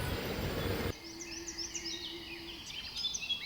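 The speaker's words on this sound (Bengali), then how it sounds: "পাখির ডাক" Birds call in a quiet Assam village: faint, high chirps and tweets scattered over soft ambient noise, following a short burst of louder broadband noise at the start.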